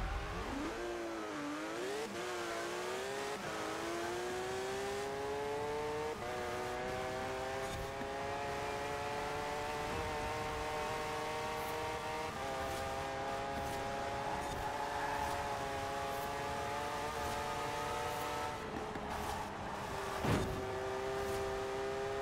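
A Porsche 911 GT3 RS of the 991.2 generation revs and accelerates through gear changes in a Forza Horizon 4 street race, its engine note climbing steadily and loud throughout with no voices over it.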